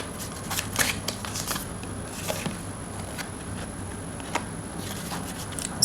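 Tarot cards being shuffled and drawn by hand at a reading: a steady, soft riffling patter of card edges with small sharp flicks, close and fairly quiet, with no talk over it.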